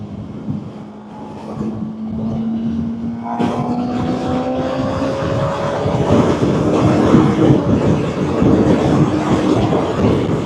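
A 2024 Honda CBR 600RR ridden at speed on a motorway, producing steady loud wind roar and engine drone with rising whining tones, continuous throughout with no talk.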